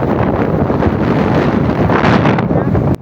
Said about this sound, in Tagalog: At dito nga po sa lugar na ito ay napakalakas ng hangin, mapapakinggan nyo po sa video namin.